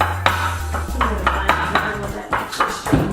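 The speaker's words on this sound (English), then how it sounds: "I'm just mashing them up with some fresh garlic" Soaked dates and fresh garlic pounded in a mortar and pestle, giving a series of close, hard knocks and scrapes at an uneven pace, heard alone.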